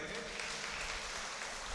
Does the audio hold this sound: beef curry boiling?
no